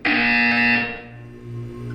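A loud, harsh electronic buzzer in Portal 2 sounds once for under a second and cuts off abruptly, leaving a low hum behind.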